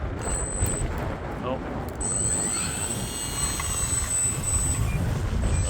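E-flite Valiant RC plane taking off, a high thin electric motor whine that starts, briefly cuts out and then holds steady, heard over outdoor wind rumble.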